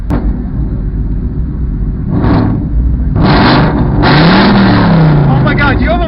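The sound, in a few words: cars revving and backfiring at a car meet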